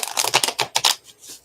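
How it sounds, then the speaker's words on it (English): Tarot cards are shuffled up close, a quick run of crisp riffling snaps and flutters that fades into a softer slide at the end, with no talk. "One more shuffle."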